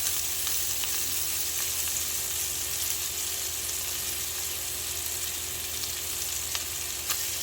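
Scallops searing in a single pan with shrimp nearby, giving a steady, close, continuous sizzle and frying hiss with faint stirring scrapes throughout, no voices.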